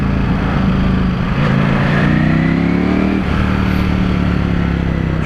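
A Ducati Panigale V4S motorcycle engine roars loudly and continuously while riding, its pitch rising and shifting through revs.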